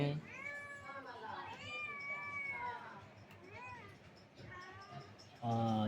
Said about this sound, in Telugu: పిల్లి యాడ నుంచి వచ్చింది